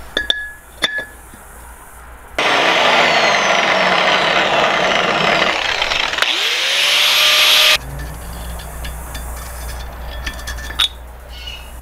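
A loud power tool whines steadily for several seconds, cutting a shallow bird's mouth notch into a wooden post, with clanks and shop noise before and after.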